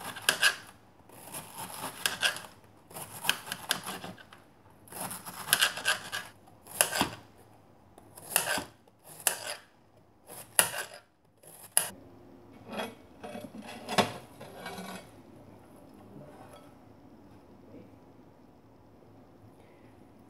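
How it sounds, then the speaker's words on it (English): A knife chops finely through a whole cabbage for homemade garlic sauerkraut, giving a run of crisp, close slicing strokes in quick bursts, then softer scraping and rustling as the shreds are handled. "I'm just going to cut up this cabbage really finely"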